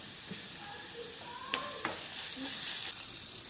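Crushed ginger, garlic and green chilli paste dropped into hot oil for an egg masala curry, sizzling and spitting steadily with a few sharp stirring clinks and scrapes, close and moderately loud.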